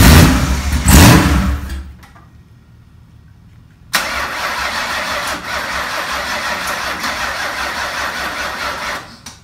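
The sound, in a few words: engine cranking with weak battery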